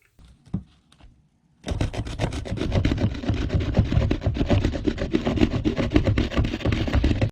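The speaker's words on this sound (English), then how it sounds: "take this can and rub it on a coarse rock, and that'll open it" A metal can rubbed back and forth on a coarse rock, a steady gritty scraping that starts after a short quiet moment and continues loud and close without pause.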